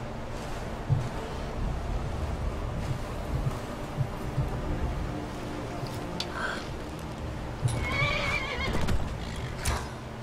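A horse in Skyrim whinnies loudly in a shrill, wavering call near the end, following scattered hoof clops over a low steady background rumble.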